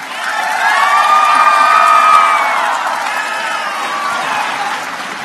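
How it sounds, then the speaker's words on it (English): A conference audience at an opening plenary session breaks into a big round of applause, dense clapping mixed with cheers and whoops that swells and then settles, with no talking over it. "Let's give a big round of applause to Anna Chaplin from Harrisburg College"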